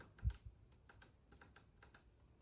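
Small plastic handlebar control buttons on a Ducati Panigale V4 motorcycle click several times in a loose, irregular rhythm, each click short and crisp, close by and fairly quiet.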